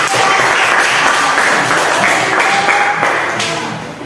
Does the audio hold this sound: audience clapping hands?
yes